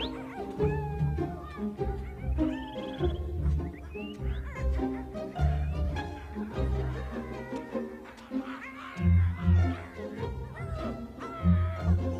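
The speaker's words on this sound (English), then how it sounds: "the annual Royal Dog Show is always a noisy affair" Many dogs at a royal dog show bark, yip and whimper in an overlapping, fairly loud chorus that runs throughout without pause.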